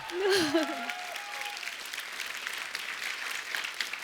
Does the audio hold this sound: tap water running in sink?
no